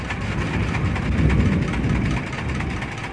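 A steady mechanical drone of a dynamo-driven soil sieving machine running continuously at close range, a low even hum with a rattling texture and no talk.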